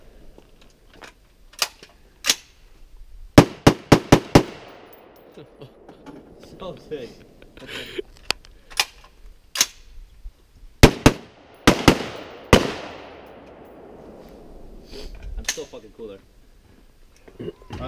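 Rifle gunfire at an outdoor shooting range: loud, sharp, close shots fired singly and in quick bursts, each with a ringing tail, while people talk and react between them.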